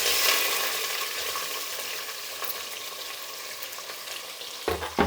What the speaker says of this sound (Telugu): ఇప్పుడు ఎర్రగడ్డలు వేసేద్దాం.